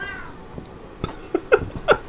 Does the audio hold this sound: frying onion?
no